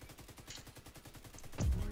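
Rapid automatic gunfire rattles in the video game The Division 2 during a raid, a fast, even stream of shots at moderate distance ending in a louder, heavier burst.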